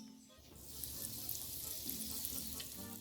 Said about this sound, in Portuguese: E aí você coloca lá para fritar.